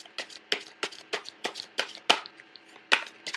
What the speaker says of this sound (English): So I'm going to pull out the rest of the cards first